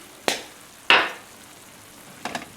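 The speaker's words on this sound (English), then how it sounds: "And stir that up" A spoon scrapes and stirs lasagna sauce seasoned with oregano and basil in a pot, giving three short separate strokes with a quieter pause between them.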